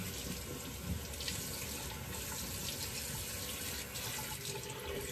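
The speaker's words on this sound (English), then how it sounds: "Let's do a quick rinse." Steady running water from a tap rinsing a stainless steel semi-slant double edge safety razor, a continuous close splashing flow with no talk.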